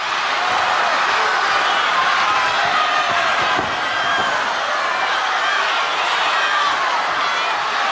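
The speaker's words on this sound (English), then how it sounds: "The crowd really going mad, standing up and screaming at the ref to make him leave go of that rope." A packed British wrestling hall roars as the crowd stands and screams at the referee, a dense, loud, continuous wall of shouting and yelling sustained throughout without letup.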